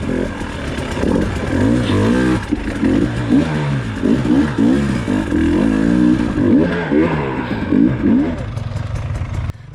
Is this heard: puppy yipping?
no